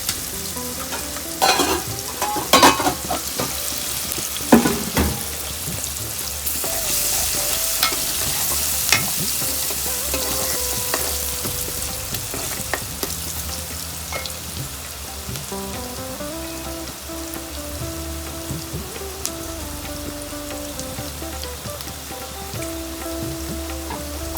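Sliced bitter gourd fries in a pan while being stirred, with a few sharp spatula scrapes early on over a steady, close sizzle that continues throughout without speech.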